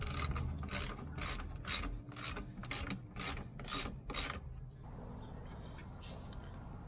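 Ratchet wrench tightening a bolt on a Lexus GX470 during a transmission cooler upgrade, a steady series of about eight crisp clicks up close, then quiet handling afterward.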